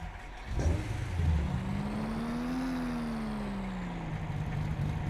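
A small utility vehicle's engine in the Spin Tires off-road game, resembling a Gator, runs steadily with a gently rising then falling pitch, close and continuous with no talk.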